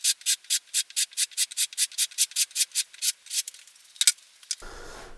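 Regular sanding strokes level the fretboard of a Precision Bass build, about twenty even, close-up rasps in a steady rhythm, then a couple of irregular scrapes and a quiet rustle.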